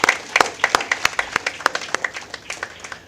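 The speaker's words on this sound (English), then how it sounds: "big round of applause to all of you" A conference audience claps, with scattered individual hand claps in a loose, uneven rhythm that fades slightly toward the end, heard close and without voices.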